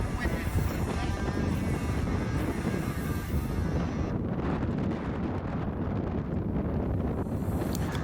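Steady wind blows across a seaside golf course at St Andrews' New Course in Scotland, a constant loud roar buffeting the microphone throughout, with no clear breaks or other sounds.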